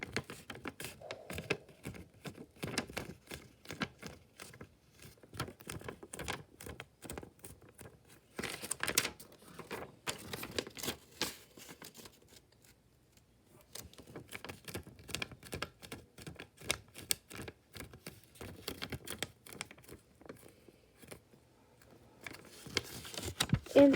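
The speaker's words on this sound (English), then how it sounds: "we are going to fold our paper in half like this, horizontally" Sheets of origami paper are handled and folded in half, giving a steady stream of soft crinkling, tapping and rustling close by, with a brief lull partway through and no talking.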